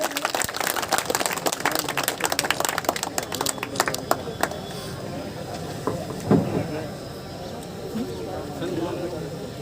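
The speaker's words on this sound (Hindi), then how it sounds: "जोरदार तालियों से स्वागत कीजिए" Rally crowd at a BJP youth gathering in Nawalgarh claps loudly in a dense burst to welcome a speaker, the applause fading after a few seconds into background chatter and a voice over a loudspeaker.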